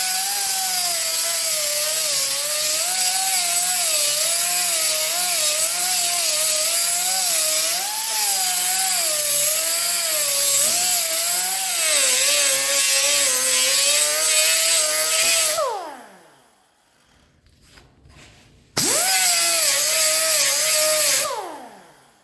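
A power tool trims the metal edge of a bead roller part with a loud, continuous whining cut whose pitch wavers as the work is fed. The cut drops out briefly near the end, then resumes.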